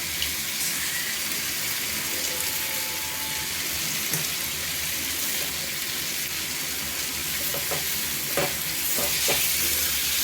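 Beaten egg is stirred into vegetables frying in a pan with tomato sauce, giving a steady, loud sizzle with spatula scrapes and clacks against the pan, growing busier toward the end. Nothing is spoken.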